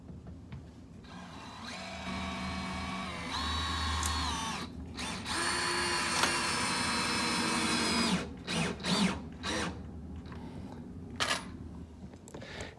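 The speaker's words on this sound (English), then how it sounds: "we're using the screws and driving them in through the shim stock" A power drill drives screws through shim stock while a door and frame are replaced after earthquake damage, its motor whining in several loud sustained bursts, then shorter stop-start pulses toward the end.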